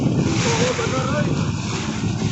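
Ocean surf rolling onto the beach at Pangandaran, a continuous loud wash of breaking waves with strong wind buffeting the microphone and faint voices mixed in.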